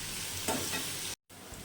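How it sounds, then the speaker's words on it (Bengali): Snake gourd frying in a pan, a close, steady sizzle with a brief stir, broken by a short silent gap before the frying resumes. "চিচিঙ্গাটা ভাজা ভাজা হয়ে গেছে"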